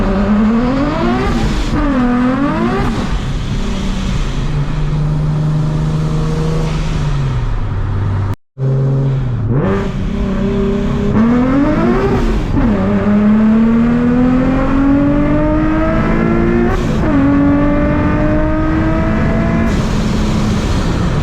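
A 650whp Nissan 370Z accelerating hard with wheelspin: a loud engine climbs through repeated high revs and gear changes with sweeping pitch rises, a brief cut in the middle, then a long sustained pull, with no talking.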